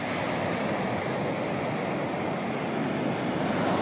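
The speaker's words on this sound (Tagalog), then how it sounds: "Hindi rin naman makapaligo kasi ang lakas ng hangin, ng alon." Strong wind and ocean surf on a beach in Caramoan, a steady broadband roar of breaking waves and gusting air filling the whole clip, loud and continuous with no talk.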